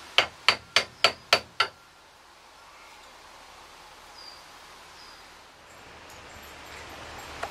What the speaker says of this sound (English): It's broken. I gotta fix it with a hammer.